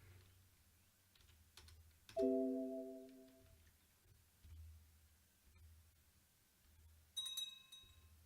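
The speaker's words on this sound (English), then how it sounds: "I cannot type to save my life" Soft clicking of typing on a computer keyboard, quiet and sparse, over a low rhythmic game-music pulse with occasional chime tones.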